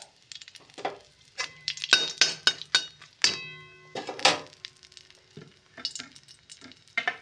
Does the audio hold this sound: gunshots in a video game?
no